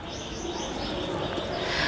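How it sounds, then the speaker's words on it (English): Several birds calling and chirping in a thick, dense forest, with a soft cooing and overlapping tweets over a constant wash of background ambience. "They heard voices of different birds."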